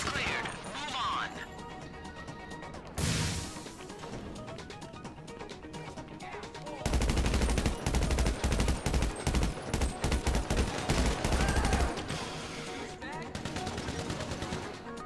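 Enemy gunfire rattles in GTA Online's Doomsday Heist, with a dense stretch of rapid automatic bursts mid-way amid scattered single shots and game noise, loud and close.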